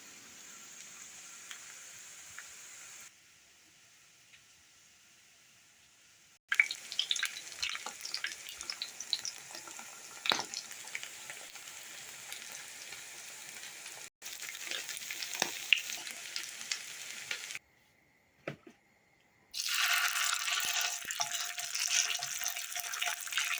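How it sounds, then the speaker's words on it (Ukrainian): Steady hiss and crackle of potato pancakes frying in a pan over low heat, close and fairly loud, with brief quiet gaps and occasional pops. "виклавши всі дируни, смажимо на невеликому вогні"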